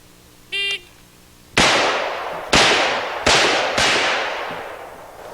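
A short electronic beep from a shot timer, then four sharp, loud gunshots in quick succession, each ringing out with a fading echo, during a timed shooting drill.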